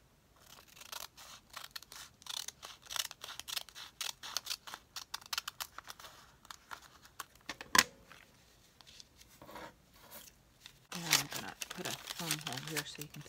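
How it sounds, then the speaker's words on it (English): Paper being cut down with scissors to form a pocket for a shabby-style ephemera craft project, a quick series of close crisp snips and rustles with occasional paper crinkling and handling noise. "I need to cut it down just a little bit more."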